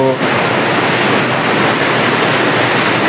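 The flooded Jhelum river rushes and roars in a loud, continuous broadband wash of turbulent water, steady throughout with no voices.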